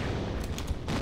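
Magnum pistol gunshots in the Tomb Raider: Unfinished Business PC game: several sharp, loud shots in quick succession over about a second, with game background noise underneath.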